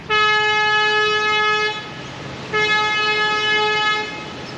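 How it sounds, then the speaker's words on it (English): A train passing near botanic gardens in Bundaberg, Australia: two long, steady horn blasts, each about a second and a half, separated by a short pause, loud and close over a low rumble. "That noise is the train going by."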